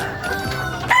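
A Red Eye Devil gamefowl rooster crows once, loud and close, a brief strained call cut short, with no talk.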